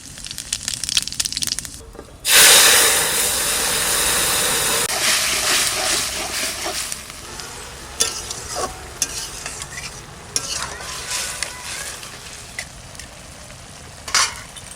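Cumin seeds hit hot oil for a tempering, bursting into a loud, sudden hiss that settles into a sustained crackling sizzle with scattered pops and stirring scrapes, close up and without talk.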